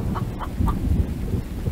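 A chicken clucks in The Infected survival video game, a few short clucks standing out over a steady low rumble of ambient wind or storm noise.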